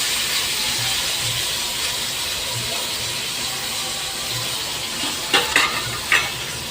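Long-cut potato strips fry in oil for a homestyle fish curry, giving a steady close sizzle and hiss with faint low stirring knocks and a few sharper scraping clatters near the end, and no voices.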